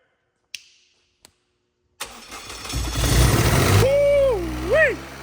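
A freshly rebuilt car engine cranks and fires up after a few faint clicks, catching into a loud rising roar that settles toward a high idle, with a voice-like whoop and people talking nearby.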